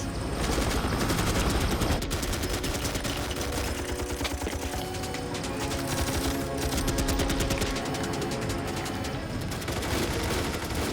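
Sustained automatic gunfire in a military action film, rapid rattling bursts continuing loudly for the whole stretch amid dense battle noise and music.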